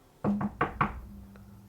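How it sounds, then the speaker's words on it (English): Four firm knocks on a door in a quick, slightly uneven rhythm, close and clear, followed by a faint low hum with no talking. "You hear a knock at your door."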